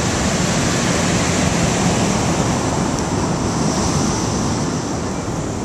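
Ocean waves on a black sand beach in El Salvador, a steady, loud broadband roar of surf and wash with no distinct breaks or voices.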